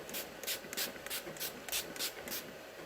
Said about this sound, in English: Now I'm gonna go in with the e.l.f. Mist and Setting Spray one more time